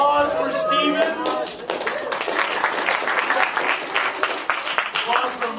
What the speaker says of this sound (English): Let's get some applause for Stevens.